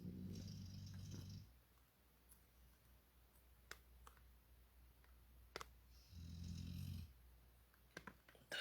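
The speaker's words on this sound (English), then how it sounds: "The snore." Quiet snoring, two separate low rumbling breaths several seconds apart with near silence and a few faint clicks in between.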